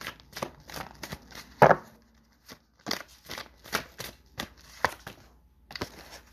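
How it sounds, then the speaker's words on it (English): Tarot cards are shuffled by hand in quick, irregular bursts of soft riffling and slapping, close and fairly quiet, with brief pauses between rounds. "let's shuffle"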